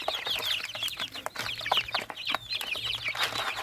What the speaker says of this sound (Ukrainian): Ну, курка точно їсть.